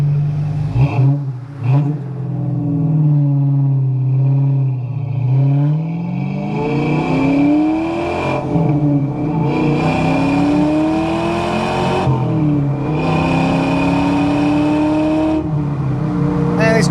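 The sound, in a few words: 1994 Ford Mustang SVT Cobra accelerating on test drive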